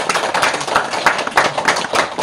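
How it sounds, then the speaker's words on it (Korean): A seated audience at a Tibetan Buddhist teaching by a rinpoche breaks into dense, close, lively clapping that runs steadily throughout with no voices. "박수."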